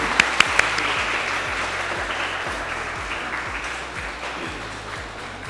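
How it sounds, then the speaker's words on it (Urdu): Steady applause from a crowd fills the clip, with a few sharp claps standing out near the start. "تالیاں تو نہیں رکنی چاہیے"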